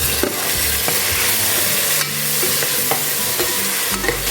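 Chopped tomatoes being stirred and sautéed in a pan with onion, ginger and garlic for a turkey berry biryani, giving a steady close sizzle with scraping stir strokes throughout and no talk.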